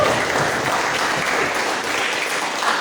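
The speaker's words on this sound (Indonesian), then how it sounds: "Kita tepuk tangan untuk Jamila ya." Steady applause from a crowd at an organization's board installation ceremony, dense clapping filling the space at an even level throughout.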